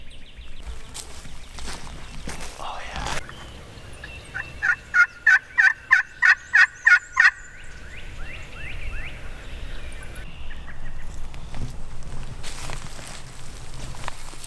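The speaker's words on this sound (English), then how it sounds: "There was a bunch of crows that just called and they gobbled back." Wild turkeys gobble back in an outdoor hunting setting: a rapid burst of about nine sharp gobbling notes, fairly distant, over rustling and ambient noise, with no talking.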